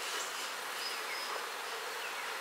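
Bees buzzing steadily at a hive being prepared for heavy feeding, a dense, continuous drone of many insects close by with no voices.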